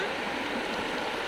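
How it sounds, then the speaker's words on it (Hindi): Murti river rapids in a forested area of the Dooars, North Bengal, rushing fast and bouncing over rocks: a steady, dense roar of churning water, close and loud, without a break. "उछलते हुए नदी, एकदम उछलते हुए बह रही है।"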